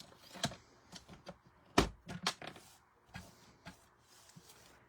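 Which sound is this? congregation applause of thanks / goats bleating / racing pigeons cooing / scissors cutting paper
scissors cutting paper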